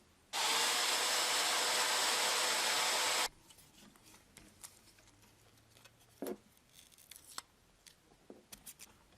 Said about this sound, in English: I'm going to go ahead and apply some heat to this to get this off properly